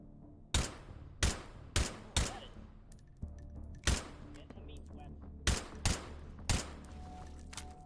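Gunshots ring out in the VR shooter H3VR, eight or so sharp, loud cracks in irregular pairs and singles, each with a short decaying tail, over a faint background.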